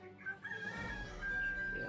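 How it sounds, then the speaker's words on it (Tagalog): Wild chickens with a rooster crowing, a long sustained cock-a-doodle-doo rising over the clucking of other fowl, fairly faint and outdoors. "marami palang mga manok dito, mga ihalas"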